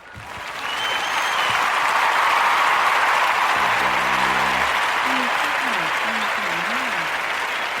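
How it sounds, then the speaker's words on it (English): Audience applause swelling quickly into sustained, dense clapping that stays loud throughout, with a voice briefly speaking over it near the middle. "Let's give her a round of applause."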